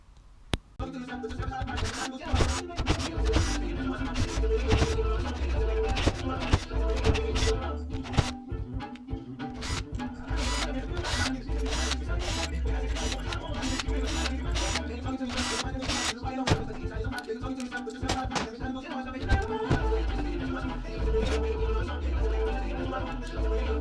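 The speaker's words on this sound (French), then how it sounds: "on va dévisser toutes les vis côté gauche du carter pour séparer" Screws are undone from the left-side crankcase of a Derbi engine, making sharp ratcheting clicks in quick bursts. Short pauses and low thumps come between the bursts.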